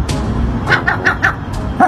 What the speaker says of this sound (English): I think my seagull barks.